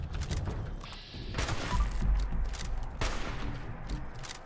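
Bursts of gunfire in the video game Fallout 76, aimed at a creature burrowing underground, loud rattling volleys with a short lull and then another heavy burst, set against game ambience with no speech.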